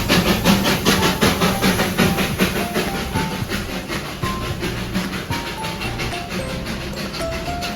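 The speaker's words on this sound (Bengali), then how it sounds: "এখানকার বিখ্যাত জিনিসটা আমরা দেখতে পেলাম, টয় ট্রেন" The Darjeeling toy train passes close by with a steady rhythmic clatter of wheels over rail joints, hissing and rumbling throughout, a few faint tonal squeals or horn notes rising now and then; no talking.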